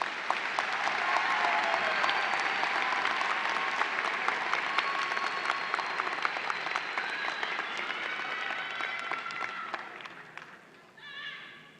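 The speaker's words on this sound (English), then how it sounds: "Let's have a big round of applause for these graduates." An audience applauds graduates at a fall university commencement: dense, sustained clapping from a large crowd fills the hall for about ten seconds and then tapers off.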